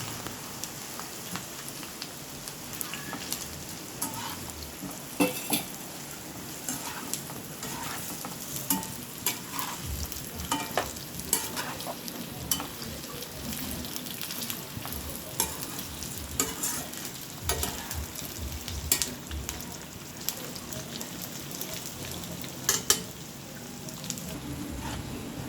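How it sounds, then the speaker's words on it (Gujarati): Cut okra pieces fry in hot oil, a soft, steady crackling sizzle with scattered pops and occasional stirring, continuing evenly and fairly quietly with no voices. "આપણે એની અંદર ભીંડો તળી લઈશું"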